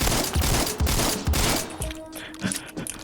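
Rapid shotgun blasts firing mini shells in the Phantom Forces first-person shooter game, a loud dense string of shots in quick succession that thins out toward the end.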